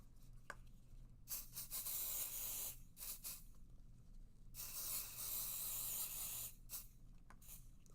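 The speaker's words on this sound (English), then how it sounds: "And we're going to hit this with some pixie spray" Pixie spray misted onto scrap paper in several separate hissing bursts, some short and some lasting over a second, close and fairly soft against a quiet room.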